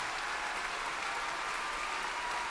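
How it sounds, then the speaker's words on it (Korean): A church congregation claps together in a dense, steady round of applause that fills the room evenly from start to finish, with no voices standing out. "여러분 박수 한번 하시죠"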